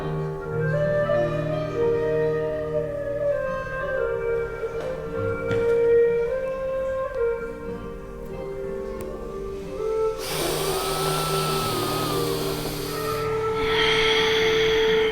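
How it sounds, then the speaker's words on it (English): Quick, forceful exhalations are pushed out during a yoga breathing exercise in which breath locks are applied and the breath is held out, set against steady background music and ending in a louder burst of breath. "You're forcing the breath out quickly on the exhale, pulling the locks and holding."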